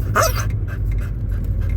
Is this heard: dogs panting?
yes